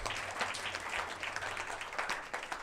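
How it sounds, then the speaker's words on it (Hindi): A church congregation at a Hindi Christian service claps together in a steady, dense burst of applause that fills the whole moment without pause. "ताली बजा दीजिए यीशु के नाम में।"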